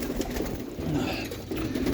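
Pigeons coo steadily in a loft of roller birds, low, soft burbling calls overlapping from several birds close by.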